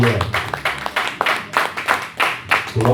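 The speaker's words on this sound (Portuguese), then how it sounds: "desocupa tuas mãos e louva o Senhor com as palmas" A church congregation claps hands together in praise, a steady rhythmic pattern of sharp claps repeating about twice a second and filling the room at close range.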